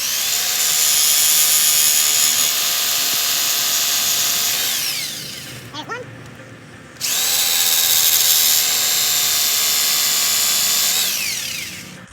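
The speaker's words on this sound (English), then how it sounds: "Now I'm using a jigsaw to cut this" A jigsaw cuts wood into a pen blank for a slimline pen with a loud, steady buzzing whine up close, running for about five seconds, stopping briefly, then starting again for another long cut.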